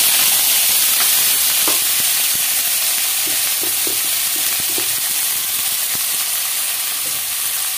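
Cumin, green chillies and onions fry in a pan for an egg fry dish, giving a steady, loud sizzle throughout with scattered short spatters and pops. No one speaks.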